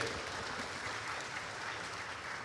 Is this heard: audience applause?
yes